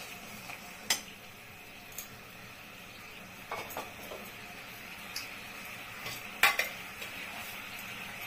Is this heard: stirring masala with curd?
yes